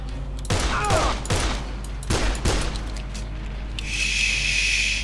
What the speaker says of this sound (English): Oh, has he got an assault rifle?